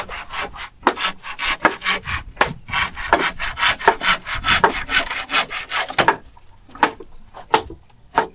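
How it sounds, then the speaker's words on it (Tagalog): Rhythmic back-and-forth strokes of a hand saw biting through wood, fast and close, pausing briefly near the end before a few final strokes. "Lagari na tayo ulit."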